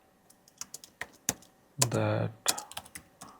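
Keys clatter on a computer keyboard while code is typed during a Node.js programming tutorial: a brisk run of separate clicks near the mic, briefly interrupted midway by a spoken word.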